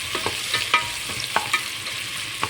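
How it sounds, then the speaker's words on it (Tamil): Four onions are stirred and fried in a pan until golden, with a soft continuous sizzle under irregular scraping and clicking strokes of a spoon, close and fairly quiet. "4 வெங்காயம் பார்த்திங்கன்னா வதக்கலாம்"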